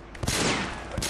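A short, loud burst of enemy gunfire in Sleeping Dogs, with a few sharp shots cracking at the start and end of a dense roar, heard close and without talk.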